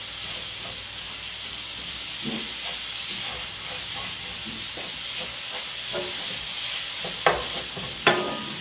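Sausage meat browning in a pan, a steady soft sizzle with occasional stirring scrapes and a couple of sharper clanks near the end, with no voice.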